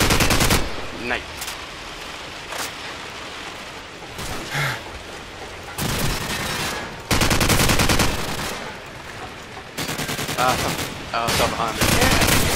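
Gunfire in Call of Duty 4 multiplayer, loud bursts of rapid shots separated by quieter gaps, with sporadic single cracks between volleys.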